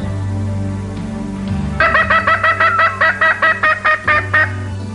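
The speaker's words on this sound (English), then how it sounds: "Gina, why is there a chicken in your living room?" A fowl in a living room lets out a run of about a dozen quick, evenly spaced gobbling calls, loud and close over a low steady background hum.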